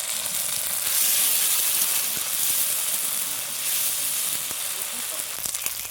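Tomatoes hit a hot pan of ginger-chilli paste for a spinach and paneer curry, setting off a loud, steady broadband sizzle and steamy hiss that runs unbroken throughout, with a brief clatter near the end.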